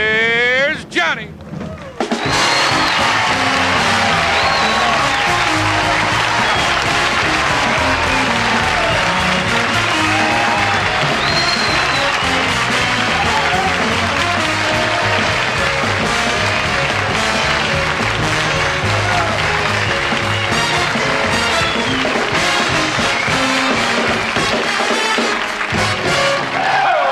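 A 1973 Tonight Show studio audience bursts into loud, sustained applause and cheering that fills the room, a dense roar that holds steady under a band and voices.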